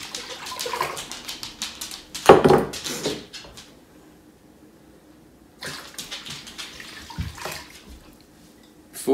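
Vinegar poured from a container into a water brine for pickled salmon, a splashing liquid pour in two bursts with a quiet pause between, close and moderately loud.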